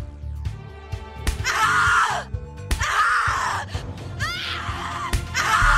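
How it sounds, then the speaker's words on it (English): Repeated anguished screaming from a character in the horror video game The Cat Lady, several long loud wails in succession with gasps between, alone and close. "Scream your lungs out."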